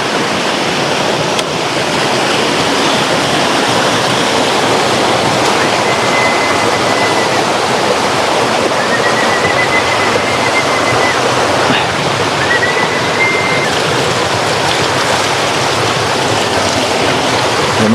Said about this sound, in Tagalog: lakas naman tubig ah